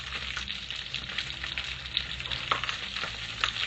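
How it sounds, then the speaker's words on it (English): Onions and garlic sauté in a pan as the base for a stew, giving a constant close sizzle with light crackles and an occasional stir, and no one speaking. "we're going to saute our onions and garlic"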